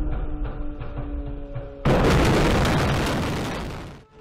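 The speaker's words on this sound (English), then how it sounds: "the first of several cluster bomb strikes rips down the street. Each a collection of mini explosions, saturating the air with killer shrapnel." Cluster bomb strikes exploding along a city street in Stepanakert, Nagorno-Karabakh: a quieter rumble with faint pops, then a sudden massive blast of dense crackling mini-explosions that roars on and slowly fades.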